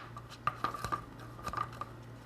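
Stirring acrylic pour paint mixed with Floetrol in a cup, likely with a stick, producing light scraping taps and clinks in short irregular bursts over a steady low hum, close and fairly quiet with no talking.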